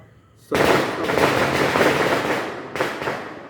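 A sudden loud burst of firecrackers for the third day of the Ganesh festival, crackling in a rapid volley, followed by a second sharp bang, close and echoing.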